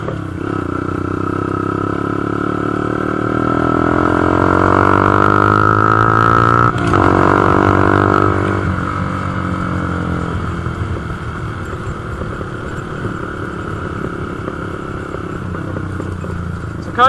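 A Honda CB125F motorcycle accelerates while being ridden, its engine note rising through the revs, dropping briefly at a clutch-in upshift, then pulling again at a lower pitch under rushing wind noise.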